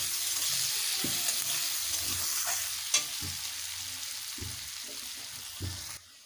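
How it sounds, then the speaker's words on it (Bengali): Two medium sliced onions fry in hot oil for a Bengali rohu fish curry: a steady close sizzle runs throughout, broken by several distinct stirring scrapes and clunks, then it cuts off abruptly near the end. "এবারে পেঁয়াজগুলোকে লাল লাল করে ভেজে নিয়েছি"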